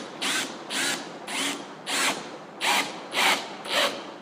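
A power drill bores into material in seven even bursts, each a rasping whir that swells and drops in a steady pulse, close and fairly loud with no talking.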